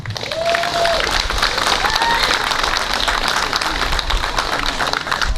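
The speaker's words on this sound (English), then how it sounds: "Let's give a round of applause to these women." Crowd at a school board protest meeting in Elk Grove, California, breaking into loud, sustained applause that fills the room steadily from start to finish, with a few faint whistles or voices mixed in.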